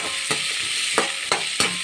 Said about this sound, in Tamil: ஒரு கால் கிலோ அளவு சின்ன வெங்காயத்தை எடுத்து நல்லா சுத்தப்படுத்தி பொடியாக நறுக்கி கடாயில் போட்டு நன்றாக வதக்கணும்